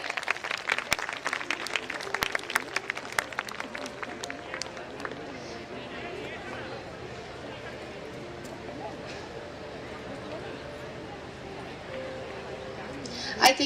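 An audience at a school event claps for a Mathematician of the Year award. The applause is brisk and steady at first, then fades into softer crowd murmur and scattered claps.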